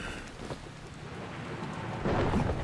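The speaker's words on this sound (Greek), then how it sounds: "Η βροχή δεν βοηθάει καθόλου." Rain and thunder in the video game Dying Light: a steady hiss of falling rain with a deeper rolling thunder rumble swelling louder near the end.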